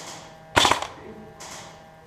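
Airsoft gunfire during an outdoor skirmish game, a quick nearby burst of several sharp shots followed about a second later by a fainter pop.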